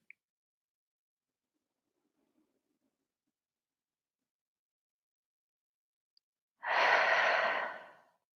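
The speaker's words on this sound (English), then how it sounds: "breathing out through your nose or through your mouth" After a long near-silence, a single slow exhale through the nose or mouth rises as a soft, breathy rush lasting over a second and then fades, close and alone, during a quiet grounding meditation.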